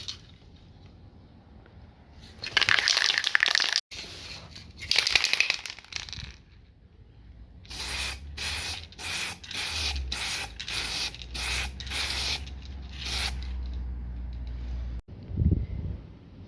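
Spray can applying glossy black paint onto sanded, degreased plastic with primer, hissing bursts: two longer sprays, then a run of quick repeated short passes, close and fairly loud.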